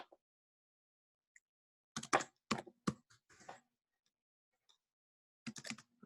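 Keys on a computer keyboard are typed in short, close bursts of crisp clicks with quiet pauses between, ending with a final quick flurry.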